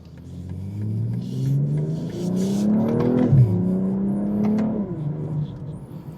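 A 2025 BMW M240i xDrive engine revs up loudly and steadily, its pitch climbing under hard acceleration for several seconds before easing off near the end, heard from inside the car.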